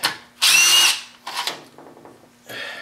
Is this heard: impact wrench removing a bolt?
yes